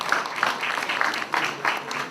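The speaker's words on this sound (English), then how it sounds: "Give yourselves a round of applause" An audience at a KAIST talk about Zambia applauds, a steady, moderately faint wash of clapping lasting about two seconds with no voices over it.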